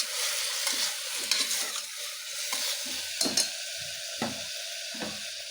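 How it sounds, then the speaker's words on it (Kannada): Tomato and brinjal frying with turmeric in a pan, a steady close sizzle broken by several scraping stirs and light clacks of the spoon against the pan, with no voices. "ಅರಶಿನ ಸೇರಿಸಿ ಮತ್ತೊಂದು ಸಲ ನೀಟಾಗಿ ಫ್ರೈ ಮಾಡ್ಕೊಂಬಿಡಿ"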